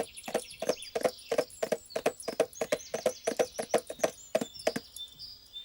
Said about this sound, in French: Qu'est-ce qu'il est beau, ton cheval!